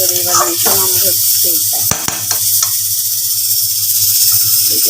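Fish braises in hot oil in a pan, a continuous bright sizzling hiss over a low hum, with someone speaking briefly near the start and a couple of sharp clacks midway.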